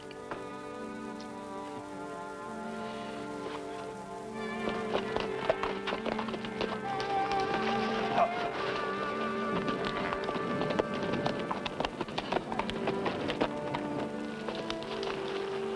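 Rhythmic hoofbeats of a horse moving quickly over ground, growing busier partway through, with scattered clattering and steady background noise, no voices.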